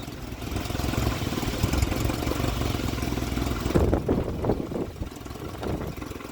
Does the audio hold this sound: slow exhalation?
no